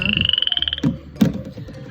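Golden-coloured foreign frog croaking in a fast run of about fifteen evenly spaced pulses close by, then breaking off into scattered rustles and knocks.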